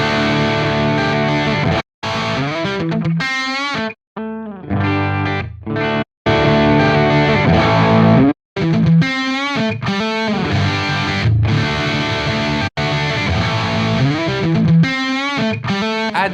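Electric guitar played through a Quad Cortex amp modeler with overdrive and effects, loud distorted chords and riffs ringing out with brief stops between phrases.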